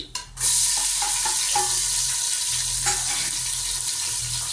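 Medium-sized onions hit a hot pan with a sharp burst, then fry in a steady, close sizzle with brief scraping of stirring.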